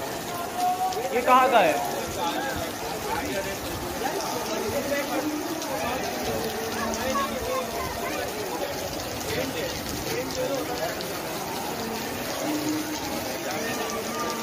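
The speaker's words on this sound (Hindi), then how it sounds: "काफी बारिश आई।" Steady rain patters on a surface throughout, a constant hiss with a voice speaking briefly near the start, during the Karachi Chehlum (Arbaeen) procession.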